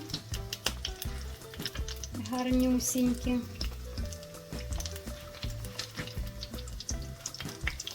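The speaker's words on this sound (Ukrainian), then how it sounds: "можна смажити і на відкритій сковорідці" Soft sizzling of small pies frying in an open pan, with someone speaking briefly over the gentle crackle.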